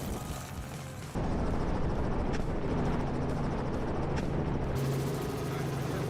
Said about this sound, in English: the helicopter's blades kicked up dust, shaking the vast plains